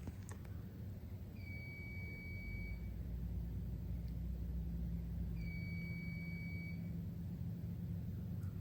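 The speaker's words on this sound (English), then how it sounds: "That's the alarm." In a closed-down JCPenney store, an alarm gives two faint, steady electronic tones, each lasting about a second and a half, several seconds apart over a low hum of room noise.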